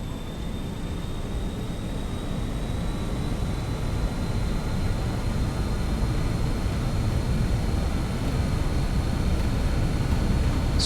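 BAe-146 jet engines in a flight simulator spool up for takeoff, a steady, loud broadband roar with a thin high whine that holds evenly throughout.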